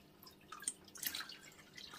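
Water trickles and drips steadily through an aquarium gravel siphon as dirt is stirred up from the tank bed, a faint, continuous wet splashing with small irregular drips.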